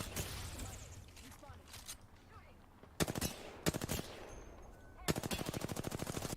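Automatic weapon fire in the video game Apex Legends during a ranked match: rapid bursts of close shots, then several distinct volleys and a final sustained rattling burst, with faint background noise.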